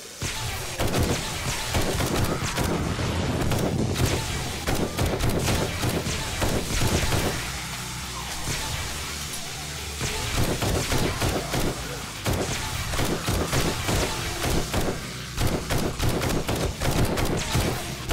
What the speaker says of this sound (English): now I'm basically just shooting towards the center